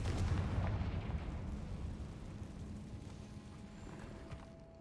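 A Confringo fire spell cast in Hogwarts Legacy bursts out as a dense, rumbling blast with crackling fire and impact noise, loud at first, then easing into a sustained roar.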